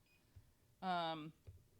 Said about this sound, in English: this might actually be beeping out because it might be shorting out in the middle of our cable